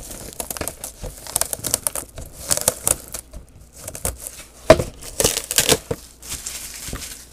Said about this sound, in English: Take off all the plastic.